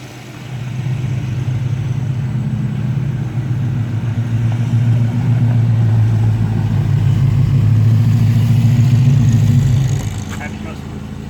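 A Ford F-150 Cobra Jet truck on dyno rollers, its engine droning loudly and building in a long sustained pull for about ten seconds before dropping off, heard from nearby.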